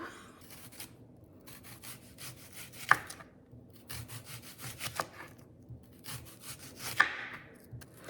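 Knife slicing through a sweet onion on a cutting board in a home kitchen, a steady series of rasping, sawing strokes with a few sharper knocks of the blade meeting the board, fairly close and with no talk.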